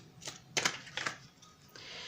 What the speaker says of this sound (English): Let's do a couple more shuffles for their emotion.